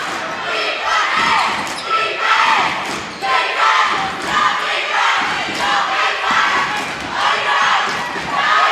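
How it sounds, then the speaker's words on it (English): A crowd at a Drury versus McCann boys' basketball game cheers and shouts loudly and steadily, with ball bounces and thuds on the court mixed in. "What an incredible crowd here tonight, John."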